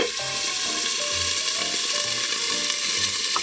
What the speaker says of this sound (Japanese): ほんで次は目玉焼きを焼いていきましょう